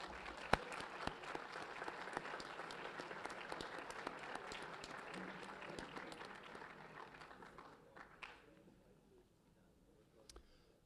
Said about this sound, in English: Can we have a round of applause for our very talented student musicians